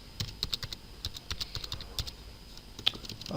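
Someone types code on a computer keyboard, producing a quick, irregular run of close, crisp key clicks with short gaps between bursts.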